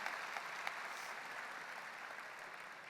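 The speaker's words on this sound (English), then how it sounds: "And you can applaud them now." Scattered, fairly distant applause from a crowd at a high school graduation ceremony, a soft continuous patter of many hands with a few sharper claps standing out.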